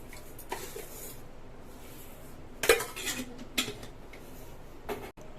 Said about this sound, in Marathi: तर मी कुकर मध्ये भात घालणार आहे